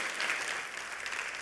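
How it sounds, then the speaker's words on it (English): A church congregation applauding, a steady dense clapping that fills the whole short moment at moderate distance. "you can clap for that"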